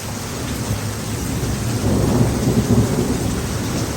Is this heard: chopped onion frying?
no